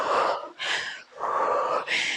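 Forceful exhalations during a home abs and legs workout, four long breathy bursts in steady rhythm with brief pauses between, close and fairly loud, no talking.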